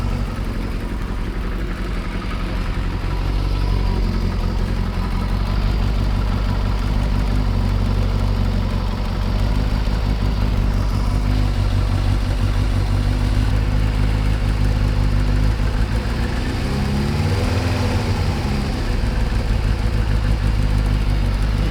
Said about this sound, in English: You can hear the engine rising and falling just because I'm pressing on those screws.